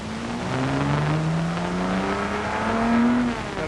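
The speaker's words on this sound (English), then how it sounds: "Accelerating hard up to Dunlop Bridge." A Jaguar race car, driven by Mike Hawthorn, accelerates hard away from the start line at Le Mans. The engine note is loud and close and climbs steadily in pitch through the gears, with no voices.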